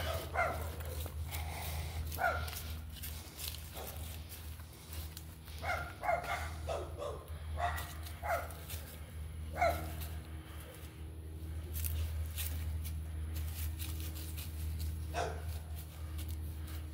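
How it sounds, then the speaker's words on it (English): Several dogs bark in short, scattered bursts at a moderate distance over a steady low outdoor hum, with gaps of quiet between barks. "Everybody barking at you."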